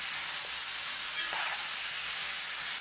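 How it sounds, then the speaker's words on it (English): Star fruit amchar simmering in a pot makes a constant close hiss and sizzle, broken by a couple of soft clinks. "Allow the starfruit to simmer and Amchar will be ready."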